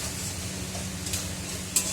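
Utensil scraping and stirring through food frying in a pan, with a steady sizzle underneath and a sharp clink near the end; close and continuous, no talking.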